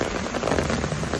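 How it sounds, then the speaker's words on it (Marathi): Heavy monsoon downpour in Mumbai drumming on surfaces, a dense, loud, unbroken roar of rain with scattered nearby splatters and no talking. "खूप दिवसांनी एवढा जोरदार पाऊस"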